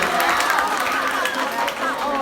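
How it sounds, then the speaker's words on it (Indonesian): A junior high school audience at a Balinese culture quiz competition claps and cheers in a dense, continuous wash of hands, with crowd voices mixed in. "Tepuk tangan sekali lagi."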